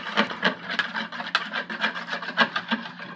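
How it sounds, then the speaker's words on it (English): Eggs are whisked in a bowl for french toast, a fast, even scraping rhythm of strokes repeating steadily for a few seconds, close and moderately loud, with no talk. "Whisk it not too much, but just enough to get all of the ingredients to congeal, to come together in this thing"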